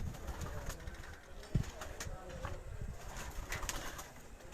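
Pigeons at a farmstead coop, including a green-marked bird, coo in soft repeated low calls amid steady background bustle, with a brief sharper knock partway through and occasional faint chirps.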